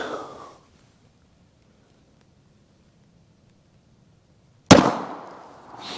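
A single .380 pistol shot fired with Hornady American Gunner XTP ammunition into ballistic gel, a sharp, loud crack outdoors after a few seconds of quiet, followed by a short decaying echo.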